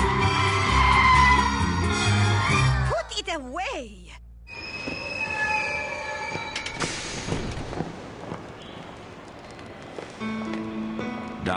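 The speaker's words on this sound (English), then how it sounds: "Down in the metro trains come," Metro train wheels squealing in an underground station, a long shrill screech rising and falling amid rumbling rail noise, with music and voices running over it.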